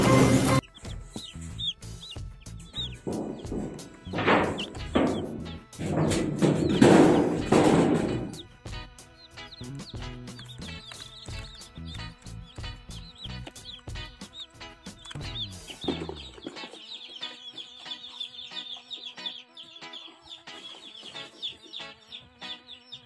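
Young chicks of a large-breed chicken peep and chirp in a coop, a busy, continuous chorus of high cheeps with occasional clucking, fairly close and steady throughout.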